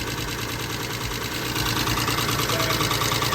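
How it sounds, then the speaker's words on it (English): An abandoned Mitsubishi 3000GT's engine idles after ten years sitting, a dense continuous running drone with a fast ticking clatter from noisy lifters, close and loud throughout. "I bet it's gonna take a while for those lifters to quiet down."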